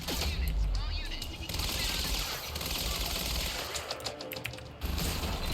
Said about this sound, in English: the advanced SMG is as accurate as the assault rifle, but has the firing speed of an SMG